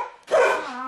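A single dog barks once, a short, loud, close yelp with a slightly whining tail, standing alone after a quiet moment.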